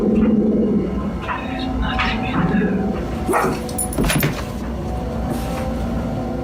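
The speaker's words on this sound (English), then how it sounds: "his little dog TJ is always growling at the corner of his bedroom" Small dog TJ growls at a corner of a bedroom, a low, steady rumble lasting several seconds beneath a talking voice.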